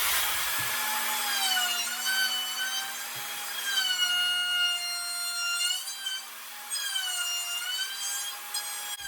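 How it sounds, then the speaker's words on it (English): Hand router shaping the top and bottom edges of a handmade wooden cabinet, a steady high motor whine with rising and falling pitch as it cuts, near and continuous, with no talking. "I'm using this hand router around the edges of the top and the bottom just to give it more of a decorative look"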